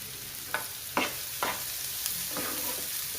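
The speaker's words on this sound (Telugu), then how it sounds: "కరివేపాకు కొంచెం వేసా." Curry leaves hitting a hot pan and frying, giving a soft, sustained sizzle punctuated by a handful of sharp stirring scrapes and taps, close and fairly quiet.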